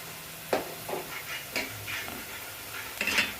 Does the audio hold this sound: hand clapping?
no